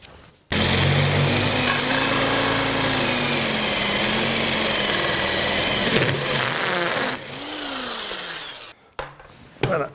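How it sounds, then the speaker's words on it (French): A drill drives an HSS hole saw through sheet metal clamped onto a wooden backing board, a loud continuous grinding whine that runs steadily for about eight seconds, then cuts out, followed by a few brief clatters. "on va utiliser un outil particulier qui est une scie trépan HSS, c'est-à-dire qui peut attaquer le métal"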